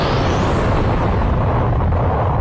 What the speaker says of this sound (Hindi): अपनी एनर्जी से एक जोरदार धमाका कर देता